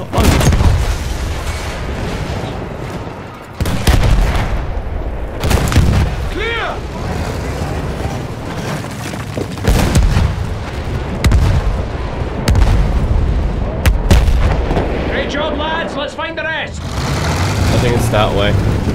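Artillery shells exploding all around on a muddy World War I battlefield in the game Battlefield 1, with loud repeated booms and gunfire filling the scene and voices shouting over the din.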